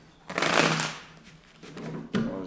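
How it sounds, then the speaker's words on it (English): A deck of tarot cards is shuffled by hand, a papery riffle that swells and fades, then a second shorter burst near the end. "Let's get two more shuffles."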